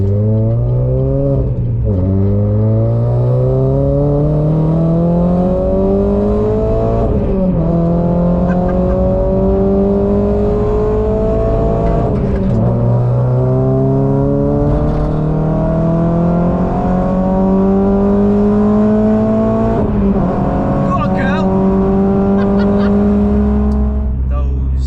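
A Renault Clio RS200 track car with new brakes drives hard, its engine loud and close as it revs up repeatedly through the gears in rising sweeps, with gear changes between pulls.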